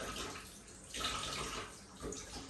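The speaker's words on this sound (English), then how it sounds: "I want to wash the rice and get it in" Tap water runs into a kitchen sink for washing rice, a soft, continuous splashing rush that swells and eases slightly, heard close and alone.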